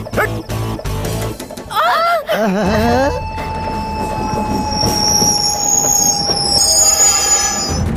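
A passenger train pulls into a station in India, with rumbling wheels, loud squealing brakes and a long high whine as it slows, while voices talk over the start.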